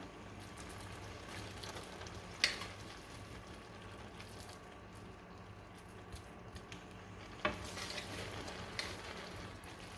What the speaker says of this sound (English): I'm gonna mix the rice together with the food like that